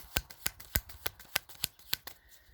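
Playing cards are handled in a series of crisp snapping flicks, about ten evenly spaced sharp riffs, close and fairly quiet, ending with a card slid off the deck.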